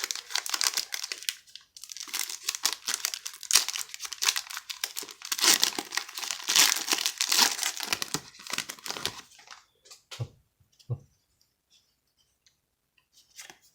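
A 2021 Donruss Racing NASCAR trading card pack is torn open, with crinkly foil wrapper rustling and ripping for about nine seconds, then a few soft card taps and near silence.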